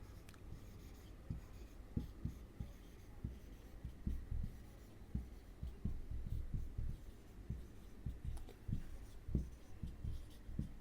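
Pen writing out a math expression, soft irregular scratches and taps of strokes on paper, quiet and close, continuing throughout with no voices.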